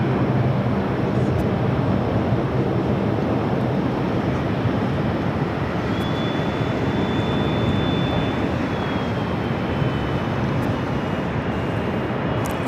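JetBlue Airbus A320 departing runway 13 right at JFK airport: a steady, loud broadband jet roar holds throughout, with a faint rising engine whine partway through and no talk.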